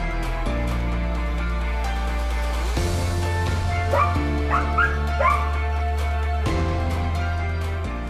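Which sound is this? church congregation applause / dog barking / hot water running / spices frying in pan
dog barking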